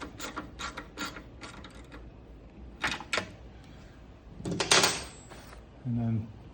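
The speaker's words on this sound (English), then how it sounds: "You can tighten this bolt all the way down." Wrench tightening a bolt during a Brutal Performance HD air shifter install, heard as a few sharp ratcheting and clicking bursts close by, with a longer metallic grinding stretch near the end and a short low buzz.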